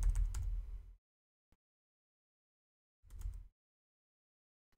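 Two short bursts of rapid keyboard typing, close and fairly quiet, sit between near silence, with a single faint click in the gap.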